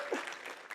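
Short burst of audience applause in a conference session hall, steady dense clapping at moderate level with no cheering voices on top.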